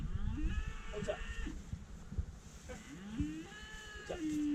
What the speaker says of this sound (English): See, nice cattle.